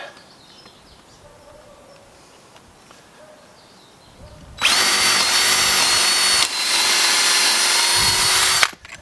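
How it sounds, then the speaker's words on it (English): A power drill bores a starter hole into a wooden post for a wire grape vine trellis. After a quiet stretch, it bursts into a loud, steady whine for about four seconds, then cuts off abruptly. "I'm going to put a starter hole in there"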